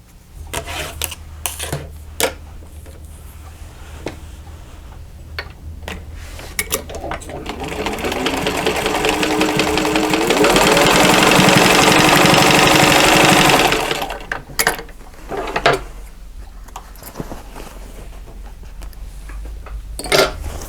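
Sewing machine stitching the corner of a zippered boxed fabric pouch, running in one steady burst of several seconds between quieter handling sounds and short pauses.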